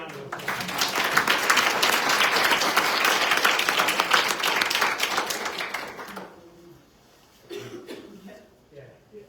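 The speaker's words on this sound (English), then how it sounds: "One more round of applause." Sustained applause from an audience at a council meeting honoring a state Teacher of the Year, dense clapping for about six seconds before fading into scattered claps, coughs and murmurs.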